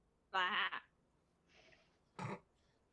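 A tabletop game player imitates a brown, patchy goat bleating: one long wavering bleat, a faint breathy sound, then a short sharp second bleat, each close and separated by quiet.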